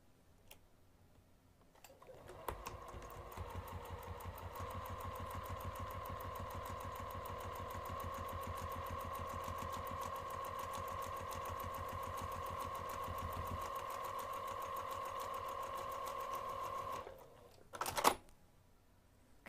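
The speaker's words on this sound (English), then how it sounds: "This time we're going to sew all the way down to the opposite end." A sewing machine runs steadily for about fifteen seconds, stitching a seam down the length of a pocket divider, with a continuous motor hum and fast rhythmic stitch ticks, then stops and leaves a couple of brief handling clicks.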